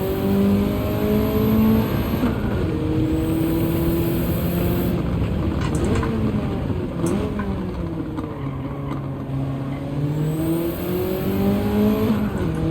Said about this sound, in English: I'm really over revving third gear there.